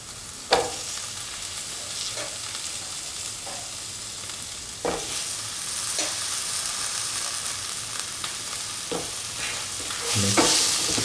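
Carrots and a chicken liver mixture fry in a pan, a soft steady sizzle broken by several sharp clanks and scrapes of stirring, close and fairly quiet.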